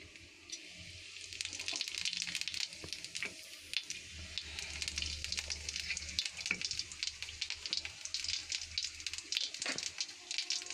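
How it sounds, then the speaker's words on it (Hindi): Cumin seeds dropped into hot oil crackle and sizzle steadily, a close continuous frying hiss with many small pops and a low rumble underneath, with no talking. "ये हमने 1 चम्मच जीरा डाल लिया है।"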